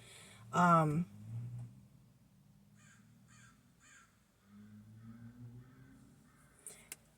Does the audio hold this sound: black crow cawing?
yes